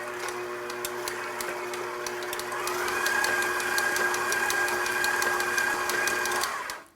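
An electric mixer whirs steadily as it blends peppermint cream cheese frosting for a red velvet cake, with rhythmic ticking from the beaters against the bowl and a slight pitch rise midway before it stops near the end.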